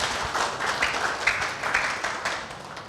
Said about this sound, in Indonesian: Berikan tepuk tangan sekali lagi buat tim Praise and Worship kita ini.